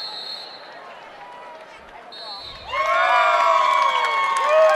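Crowd at a high school state wrestling tournament erupts into loud, sustained cheering and whoops after a quiet stretch of arena murmur, with shouting rising sharply mid-clip and holding to the end.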